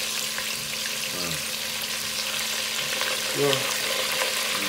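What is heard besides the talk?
potatoes frying in hot oil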